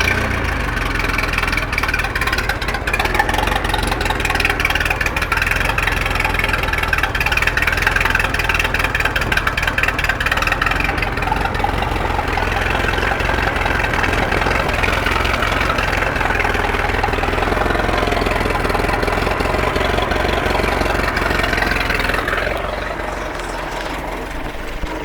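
A Sea Ray boat engine with freeze damage runs steadily at idle for the whole stretch, a constant low rumble with a mechanical hum, dropping slightly at the very end.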